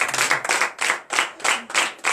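A church congregation claps together in acclamation, loud rhythmic bursts of hand claps in about seven even waves, close and without speech.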